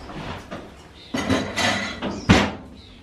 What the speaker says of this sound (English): So we're going to whack this in the oven for about 10 minutes to get it really hot.